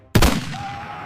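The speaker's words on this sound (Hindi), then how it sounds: "और गोली चल गई।" A single sharp gunshot cracks out loud and close, followed by a short echoing tail that fades over the next second.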